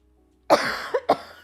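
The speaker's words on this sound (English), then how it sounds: "I don't know why I'm coughing." A person coughs three times in quick succession during a livestreamed board game playthrough, close and fairly loud after a moment of near silence, with a short pause before the last cough.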